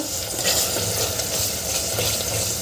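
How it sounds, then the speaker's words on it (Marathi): Ground masala paste for a black chickpea curry fries in a pan, producing a loud, dense, continuous sizzle with soft stirring textures and no talking. "आता हे वाटण आपल्याला छान परतून घ्यायचं आहे."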